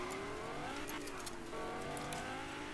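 A car engine hums and revs steadily while driving in Fortnite Battle Royale, with rising and falling pitch and faint tire noise, close and continuous throughout.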